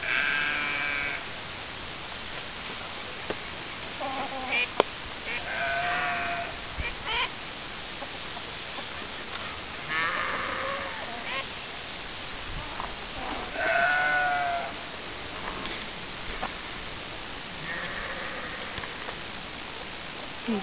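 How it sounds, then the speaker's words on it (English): Goat bleating, repeated wavering bleats at irregular intervals, moderately near, over a low background hum, with a few soft bird-like calls mixed in. "He's noticing the goat."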